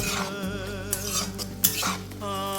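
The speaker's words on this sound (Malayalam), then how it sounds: "എല്ലാ അച്ചാരും ഇടുന്നേ ഇളക്കി ഇളക്കി കരിയാതെ ഒപ്പിച്ചെടുക്കണം" A spoon stirs chopped pickle ingredients in hot oil with mustard seeds in a pan, scraping and clinking up close over a continuous sizzle.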